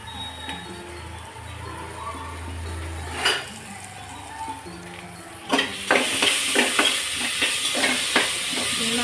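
Khichadi spices with fresh ginger and green turmeric being stirred in a pan over low heat, soft scraping at first, then a quick run of clinking metal spoon strikes against the pan over a gentle sizzle, with no talking.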